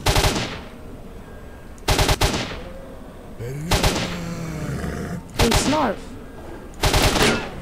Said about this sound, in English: someone's shooting at me from straight below